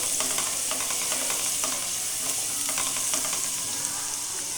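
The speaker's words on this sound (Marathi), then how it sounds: "थोडीशी हळद टाकून घ्यायची म्हणजे भाजीला कलर येतो त्याच्याने आळ टाकून नंतर ना थोडंसं मिक्स करून घ्यायचं" Crab curry masala with turmeric sizzles in a pan while being stirred, a continuous bright hiss with soft repeated scraping strokes and no talking.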